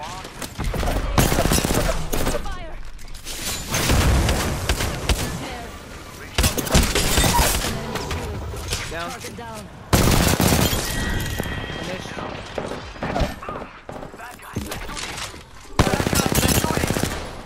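Video game gunfire in rapid bursts, with automatic rattling and single sharp shots that come in loud clusters separated by brief lulls, while players talk over the action.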